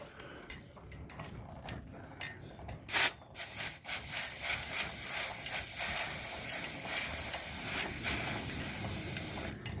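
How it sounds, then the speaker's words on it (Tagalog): Bisbella chain lube sprayed onto a motorcycle chain, a series of close, crisp aerosol hisses in short bursts, some longer sprays merging, with faint handling noises between. "Yan po, maglagay tayo ng Bisbella chain lube."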